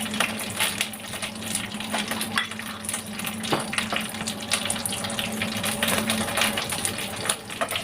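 Whole spices sizzle and crackle in hot oil over a low flame for a Mangalore chicken curry, a steady close frying hiss with scattered pops and occasional stirring clinks of a pan.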